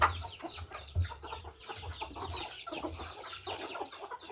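Chickens cluck near their coop on a small farm, with soft repeated clucks and chatter from several birds, fairly close and moderately quiet, without talk.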